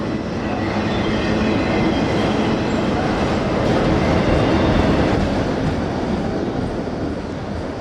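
A CSX freight train hauling empty auto racks crosses a bridge, producing a loud, steady rolling rumble and rattle of wagons close by, sustained throughout with no talking.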